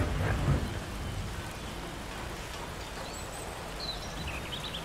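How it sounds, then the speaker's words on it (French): Steady rain with rumbling thunder in the C&C Generals strategy game, a continuous soft wash of rainfall with a low rolling thunder swell near the start, fairly quiet and with no voices. "cet orage de fou"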